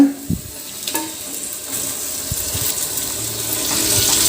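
Washed chicken pieces go into a pan of hot masala, setting off a steady wet sizzle that swells toward the end, with a few brief knocks near the start.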